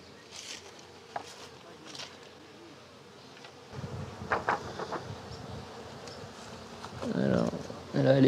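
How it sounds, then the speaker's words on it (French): Honey bees hum steadily in a colony, a soft buzzing that turns denser and closer halfway through, with handling noises and a brief voice near the end. "quand on voit que les abeilles, elles sont bien fixées dans la colonie"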